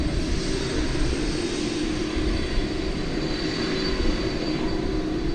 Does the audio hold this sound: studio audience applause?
no